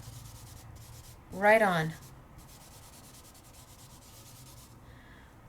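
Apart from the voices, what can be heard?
rubbing Marabu art crayon onto paper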